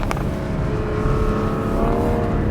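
A Porsche Cayman on PS4 tires lapping an autocross course, engine roaring steadily from inside the cabin with a brief rise in pitch, loud and continuous with no talking.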